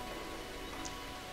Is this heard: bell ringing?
no